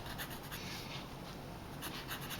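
Steady scratchy scraping of a pencil across paper, close and continuous with slight rhythmic pulses, no voices.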